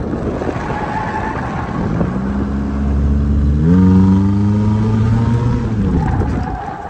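Rusted-out exhaust on a 1992 Toyota Corolla wagon gives a loud, raspy, steady drone that climbs in pitch as the engine revs up, then eases back down, with no talking over it.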